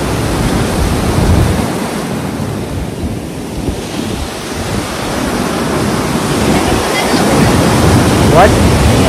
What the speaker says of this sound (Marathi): आणि समुद्राचा आवाज.